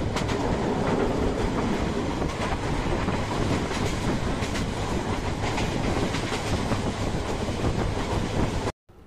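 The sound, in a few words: train running on rails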